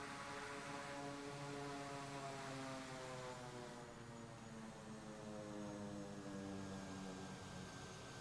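Single-engine Kodiak 100 turboprop in a flight simulator, a steady continuous propeller drone with gradually sliding tonal hum, faint and unbroken throughout.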